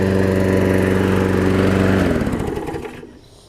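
A 5hp Briggs engine on a Weed Eater mower deck runs loud and steady close by, then winds down as it is shut off, the drone fading over the last second.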